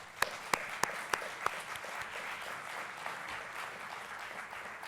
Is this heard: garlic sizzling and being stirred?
no